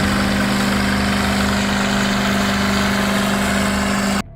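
A White tractor with a massive Cat V8 engine of 636 cubic inches runs steadily at a constant low droning idle, loud and close with a heavy vibrating hum, then cuts off abruptly at the end.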